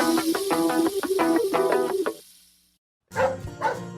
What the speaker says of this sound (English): That's my dog, Annie.